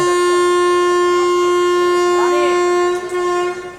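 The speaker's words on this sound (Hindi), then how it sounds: "चंद्रपुरा जंक्शन से अपनी ये जसीडी वास्को एक्सप्रेस फिलहाल निकल चुकी है" Jasidih–Vasco Express pulling out of Chandrapura Junction, its horn blaring in a loud, steady, sustained tone for over three seconds before dipping and fading near the end, with rail rumble beneath.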